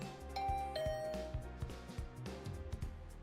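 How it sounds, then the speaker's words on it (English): Doorbell chimes in the video game The Hundred Line, a two-tone ding-dong with a ringing sustained tail, followed by soft game music and scattered effects at low level. "I rang the doorbell to Tsubasa's room."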